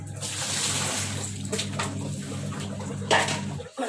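Steady running water pours during a two-water rinse, a continuous broadband rush under a low hum, with a brief splash near the end before it cuts off.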